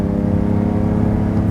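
Deep, steady rumble of the 5.7-litre V12 in a Lamborghini Diablo SV, a continuous close engine drone with strong low harmonics holding at an even level throughout, no voices over it.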